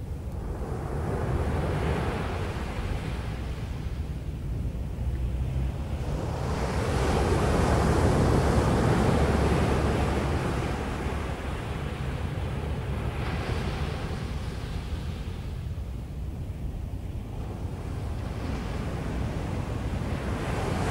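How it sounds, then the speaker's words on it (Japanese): Ocean surf rolls and breaks steadily at a seaside beach, a broad continuous wash that swells louder midway, with wind buffeting the microphone throughout and no voices. "再び海辺にいます。"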